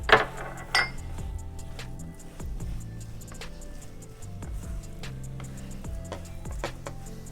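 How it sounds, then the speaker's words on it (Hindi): Chicken filling with coriander for chicken bread is stirred in a bowl, giving sporadic close clinks and scrapes of a spoon against the dish over a faint background hum, with no talking. "अब धनिया डाल के इसको अच्छे से मिक्स करेंगे।"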